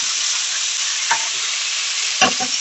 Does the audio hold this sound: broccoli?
yes